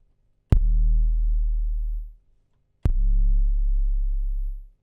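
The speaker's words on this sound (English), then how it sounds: "This is layered kicks with harmonics." Two layered synth kick drums from the LEWD Kontakt library, each a sharp click dropping into a long, booming low tone with rich harmonics that rings for over a second. The two hits are spaced apart, loud and close, with no voices.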